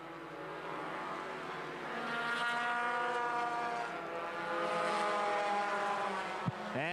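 Compact touring series race cars at Angola Motorsport Speedway, engines droning and whining as a pack passes down the backstretch into turn three, steady and fairly distant with rising and falling pitch.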